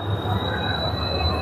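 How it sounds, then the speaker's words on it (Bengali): The Howrah to Digha Tamralipta Express rolls into a busy station with a continuous rumble and a high, sustained wheel squeal throughout. Faint crowd murmur runs underneath. "হাওড়া টু দীঘা তাম্রলিপ্ত এক্সপ্রেস ঢুকে পড়লো।"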